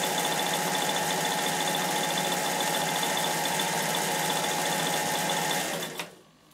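A Bernina 840 sewing machine stitches a scallop pattern in one steady, close, whirring run lasting about six seconds. It then stops abruptly, and no voices are heard.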